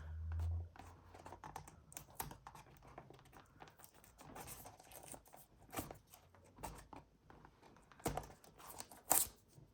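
Someone tears open the packaging of a reMarkable 2, producing a run of close, crinkly ripping and scratchy rustles in uneven bursts, with a few sharper tears near the end.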